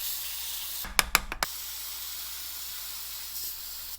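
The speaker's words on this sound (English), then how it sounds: "Maybe we should spray some more chemicals in it." Several quick hissing bursts from an aerosol can of brake cleaner, short and close, followed by a steady quiet background hiss.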